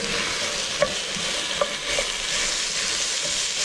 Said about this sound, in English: Once the serrano pepper is in there, then you're gonna start putting your onions.